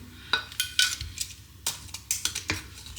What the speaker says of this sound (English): I've got some tongs to very easily get them out with